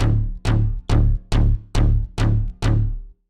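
Punchy synth bass notes widened with delay, seven heavy repeated hits in an even rhythm with a sharp attack and quick decay, loud and alone, ending in silence.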